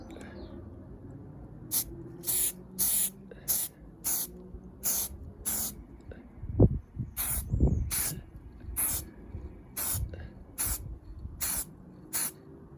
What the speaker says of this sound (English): so that was the first spray, and I sprayed upwards